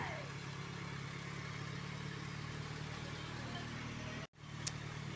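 A Peugeot 306 engine idles with a steady, even, sewing-machine-like hum, close and continuous, cut off briefly near the end.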